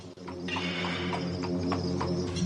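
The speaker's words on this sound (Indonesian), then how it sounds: "Kereta kuda itu hanya lewat saja di dekatku." A horse-drawn carriage passes close by as a radio drama sound effect, with rhythmic clip-clop of hooves over a steady humming background.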